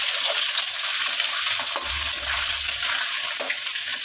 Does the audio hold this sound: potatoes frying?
yes